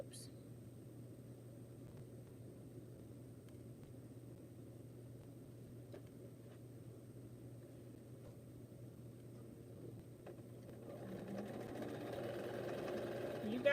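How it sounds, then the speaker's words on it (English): A sewing machine stitches a quilt piece with a steady, close mechanical hum and whir that runs throughout and grows slightly louder near the end. "I'm just going to sew another piece so that I'm not breaking my thread"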